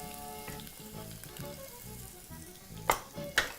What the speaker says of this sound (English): Now I'm going to proceed to add my garlic and my ginger.